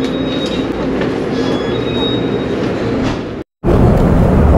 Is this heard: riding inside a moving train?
yes